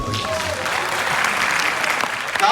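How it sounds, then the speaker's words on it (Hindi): Audience applause at a Chhattisgarh cinema awards ceremony in Korba, a steady wash of clapping throughout with some voices mixed in. "ताली बहुत कम हुई"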